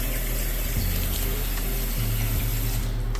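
Water pouring steadily into a sink whose overflow drains too slowly, a loud continuous rushing hiss under a low hum, with no voices.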